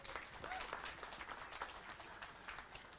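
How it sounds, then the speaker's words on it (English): Audience applause at a women's 10 m air rifle standing shooting final, a steady dense patter of many hands clapping at moderate distance, fairly quiet and continuous throughout. "Applause for that."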